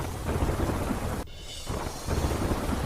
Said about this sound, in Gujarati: તોફાની પવન સાથે વરસાદ વરસ્યો